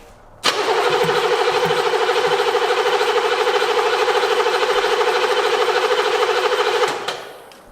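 An unreliable 1980s diesel engine, reporting three-quarters of a tank of fuel and a glow plug light that stays on, is cranked by its starter for about six and a half seconds in a loud, steady, rhythmic churn that then cuts off without catching.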